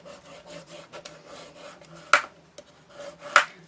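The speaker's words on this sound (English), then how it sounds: "we're going to score at 1/2 inch" A scoring tool drawn across paper for a memory book gives soft, close scraping strokes, broken by two sharper clicks of the tool against the board, with no voices.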